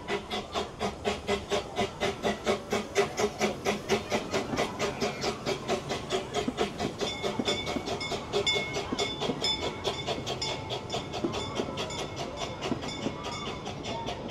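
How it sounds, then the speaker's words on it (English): A small amusement park train at Hersheypark rolls past with a rapid, regular clickety-clack of wheels and a faint hiss, the rhythmic clatter steady and moderately close for the whole stretch. "Oh, there's a train."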